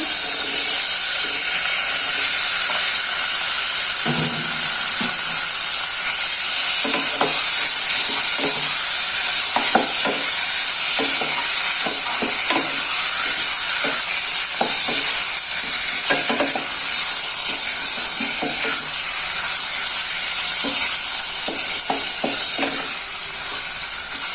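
Chicken frying in a hot pan with a loud, steady sizzle and hiss throughout, while a utensil scrapes and stirs in irregular strokes close by.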